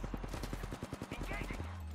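Gunfire in the video game Apex Legends, a rapid burst of repeated shots in quick succession, fairly loud and up front, ending with a sustained low tone.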